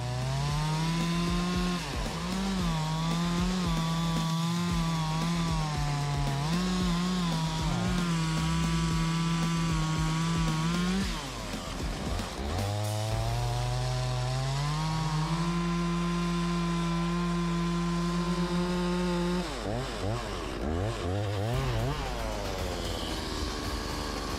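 Big chainsaw cutting through thick tree trunks during logging, a loud continuous engine whine that dips under load and revs back up, with a brief pause midway, close and steady with no speech.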